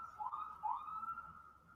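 A faint, distant siren wails with a rising and falling tone, heard alone against quiet background noise.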